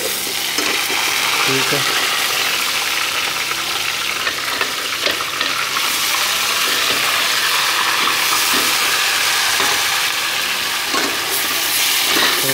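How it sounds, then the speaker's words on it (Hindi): Chicken frying in a pot with ginger, garlic and green chilies for a white handi, a loud, constant sizzle with stirring scrapes, close up, and a brief spoken word partway through. "इसके बाद हम ये चिकन डालेंगे इसके अंदर आराम आराम से"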